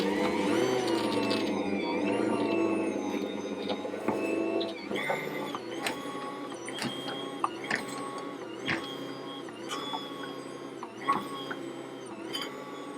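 An Ankarsrum stand mixer kneading Easter bread dough gives a steady motor whir with a low rhythmic hum, joined later by intermittent soft knocks and thumps.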